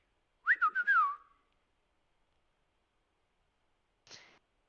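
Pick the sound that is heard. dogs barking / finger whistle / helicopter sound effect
finger whistle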